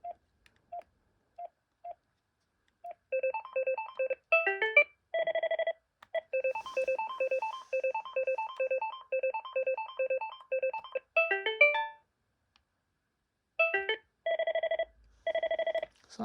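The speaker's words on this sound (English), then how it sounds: "I really like those ringtones" A BT2200 cordless phone plays a series of electronic ringtone melodies in bursts, with short beeps at first, then longer patterned tones, pauses between them, clear and close.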